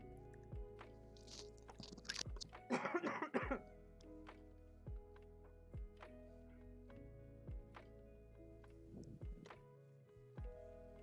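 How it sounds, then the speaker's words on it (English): A person coughs in a short burst of a few harsh coughs near the start, close to the microphone, followed by scattered soft thumps over a faint steady hum. "Sorry, I had a cough."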